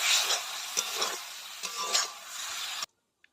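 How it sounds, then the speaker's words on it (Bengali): Kochu stem curry, seasoned with salt and sugar, is stirred in a pan: a run of scraping strokes over a soft sizzle, close and steady, cutting off suddenly into silence, with no talking. "একটু ভালো করে ঘেঁটে নিতে হবে"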